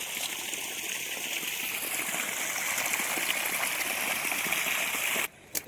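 Water gushes steadily into a paddy field in a continuous rushing flow, close and fairly loud, then cuts off abruptly near the end; no one speaks.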